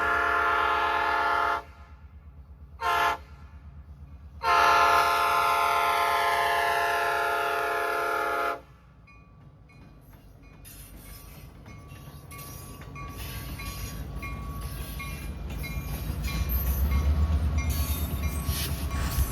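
A train horn blasts in long, loud bursts at the Fields Drive level crossing near Chickamauga, then heavy railcars of a steam special excursion rumble past with a rising, steady clatter.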